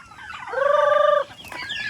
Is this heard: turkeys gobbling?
yes